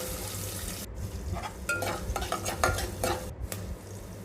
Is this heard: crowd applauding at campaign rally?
no